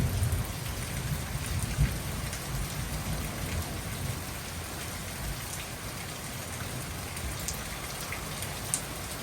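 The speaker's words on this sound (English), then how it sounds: "It's raining." Rain patters steadily on a tent at night, a dense, even hiss of drops with occasional sharper taps and no voices.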